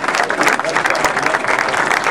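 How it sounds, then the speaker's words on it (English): Dense, steady applause from a town hall meeting audience honoring fraternity brothers, many hands clapping together close and loud with crowd noise mixed in. "Give them a round of applause"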